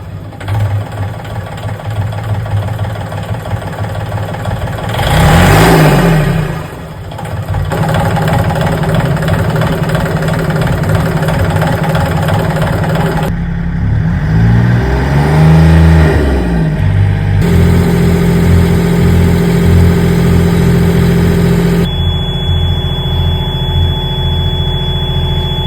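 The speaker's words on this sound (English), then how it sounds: "So I put the engine into gear to just figure out" A Yanmar diesel engine on a catamaran runs with a steady low drone while a shrill, sustained sail-drive alarm squeals loudly over it, with the pitch shifting as the engine revs rise and fall twice.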